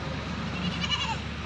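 Goats on a Rajanpuri goat farm selling does with kids and pregnant does bleat in a steady, moderately loud chorus close by, their calls overlapping through the whole short stretch.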